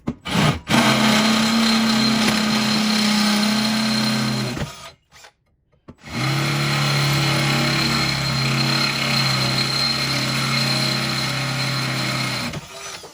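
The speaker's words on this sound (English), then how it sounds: "we'll give this a go and get these drilled" A power drill bores holes into an ammo tool box holder mount, whining loudly and steadily for several seconds, stopping briefly, then running again at close range with no talk.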